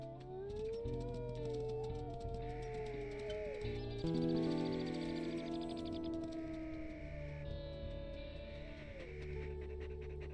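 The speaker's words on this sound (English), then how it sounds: "That was a loud howling." Wolves howl in the WolfQuest 3 video game, several long rising and falling howls overlapping in a sustained chorus with lower pack voices beneath, loud and close.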